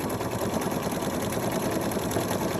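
A PFAFF creative 4.5 embroidery machine stitches a design with a steady, close mechanical whir that carries on without a break and without talk.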